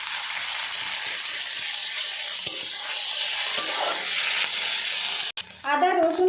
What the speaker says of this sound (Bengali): আদা রসুন পেঁয়াজটা আমি ভালো করে ভেজে নিয়েছি